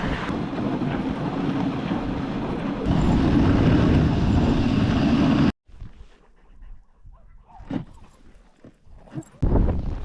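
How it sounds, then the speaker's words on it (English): Strong Arctic wind gusting loudly across an exposed campsite, a dense roaring rush for several seconds that cuts off abruptly, then lighter, uneven gusts and buffeting before a loud surge returns. "The wind is definitely picking up."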